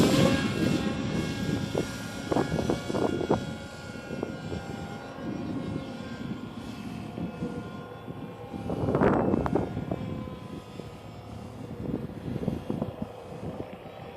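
A foam RC A-10 Warthog model plane flies on a windy day, its electric motor whine drifting near and far with gusty wind buffeting, one louder pass midway.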